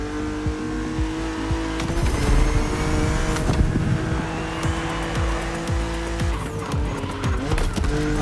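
A BMW Z roadster races in The Crew Motorfest with a loud, continuous engine drone, shifting revs, and repeated tire squeals and skids, all close and sustained.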